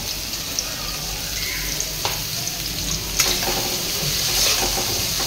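Onion frying in a pan while being fried until red for whole masoor lentils, a loud continuous close sizzle with occasional stirring clicks, no voices.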